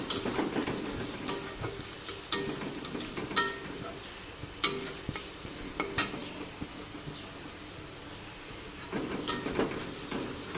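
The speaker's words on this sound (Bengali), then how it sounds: "জিরে ধনের গুঁড়ো একটু ভেজে নেব একটু" Ground cumin and coriander powder fry in a pan, with a soft continuous sizzle broken by repeated sharp clinks and scrapes of a utensil stirring against the metal.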